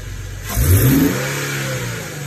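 An Infiniti G37 fitted with a new cold air intake revs up sharply from a low idle, the engine note swelling loud and then settling back into a steady hum, with no talking.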